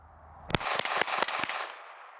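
Sharp gunshots from a Kimber 2K11 9mm pistol, five quick reports in rapid succession over about a second, each a loud broadband crack with a lingering outdoor tail.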